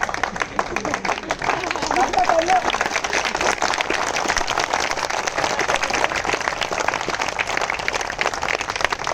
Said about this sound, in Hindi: तालियां कमजोर इसलिए हैं, सुन लीजिएगा, इसलिए हम बजवाएंगे।